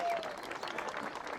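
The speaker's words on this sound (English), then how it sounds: "Golf clap for whoever this gentleman is out there." Scattered crowd applause in the GSPro golf simulator after a chipped-in shot, a short, soft golf clap over a steady murmur of spectators.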